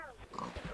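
A pig in the video game Minecraft gives a short, faint grunting oink, a single brief snort-like call.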